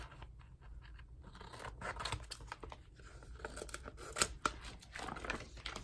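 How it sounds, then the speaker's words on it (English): Scissors snip through paper for a scrapbook layout with sequin pockets, a close, quiet run of irregular crisp cuts and scratchy rustles with a few sharper clicks. "We're just going to cut it kind of big around there."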